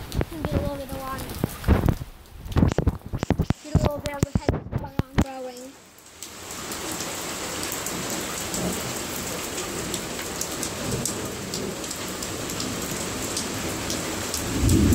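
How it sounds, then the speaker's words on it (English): A heavy thunderstorm in Austin, Texas: someone talks at first, then a dense, steady hiss of pouring rain takes over, with a low rumble of thunder underneath. "Truly amazing these storms are."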